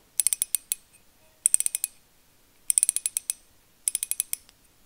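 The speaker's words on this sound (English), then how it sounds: "Very smooth clicks, reasonably loud." Drag clicks from a Daiwa Presso fishing reel spool, heard as four quick bursts of crisp, sharp ratcheting clicks, each five or six clicks long, close up and alone against near silence.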